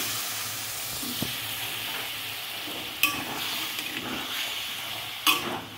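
Water hits a hot pan while an egg omelette dish cooks, giving a broad, steady hiss and sizzle with a couple of sharp clinks of a utensil against the pan, close by and with no voices.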